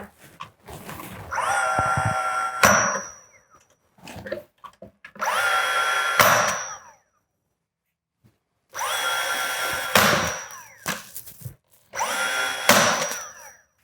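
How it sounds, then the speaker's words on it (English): Nails driven into wooden slats of a noodle board stove cover with a power nailer, four bursts of mechanical whirring and buzzing, each ending in a sharp crack, separated by short gaps and quiet handling noises. "pretty much going to put 4 nails per slat or per board in here"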